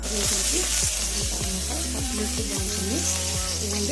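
Taro root pieces deep frying in hot oil, a steady loud sizzle and crackle throughout, with occasional stirring or shifting of the pieces close by and no talking.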